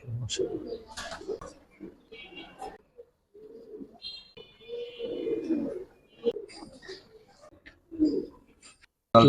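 Giribaz pigeons cooing in scattered bursts close by, with brief pauses and faint high chirps between them, while a person talks at intervals.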